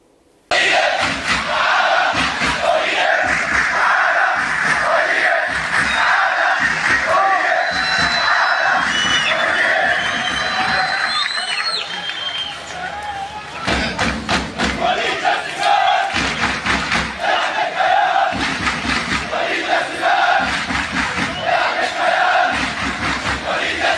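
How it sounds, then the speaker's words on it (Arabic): A large Al Ahly football crowd in a stadium chants a rhythmic tribute to player Walid Soliman, with loud massed voices and regular clapping beats that swell into sustained roaring and then return to the chant. "تعال نشوف الجمهور قال ايه لوليد"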